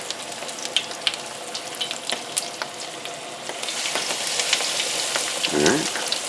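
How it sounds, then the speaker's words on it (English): Breaded steaks frying in hot oil, giving a steady close crackling sizzle with scattered pops, and a brief low clunk near the end. "You can hear the little sizzle."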